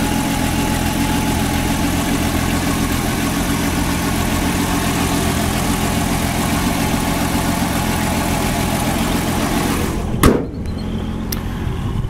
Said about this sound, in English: 200 cubic inch six cylinder. Really, the motor runs great, sounds great.